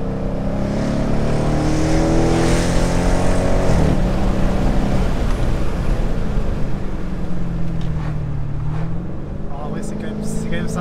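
A Dodge Challenger R/T muscle car roars under acceleration, a loud, close, continuous engine drone with rising and falling pitch through a gear shift, heard from inside the car with faint road noise.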